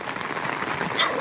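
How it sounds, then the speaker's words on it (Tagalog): Rain falls steadily on a mountaintop village, a dense even hiss of drops on surfaces with a faint high chirp near the end. "Ulan."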